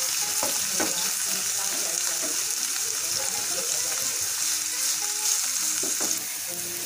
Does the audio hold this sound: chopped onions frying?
yes